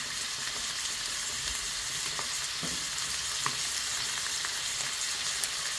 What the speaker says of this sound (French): Et je le fais revenir un petit peu.